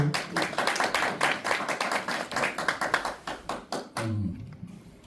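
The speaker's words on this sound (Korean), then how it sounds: "회장님 박수 주세요" A small audience at a senior forum claps in brisk, uneven bursts for several seconds before the clapping stops abruptly and a voice begins.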